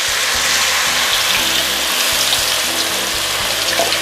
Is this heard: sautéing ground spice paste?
yes